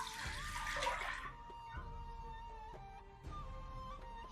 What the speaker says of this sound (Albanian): Tash në tenxhere shtojmë 800 ml me lëng të mishit,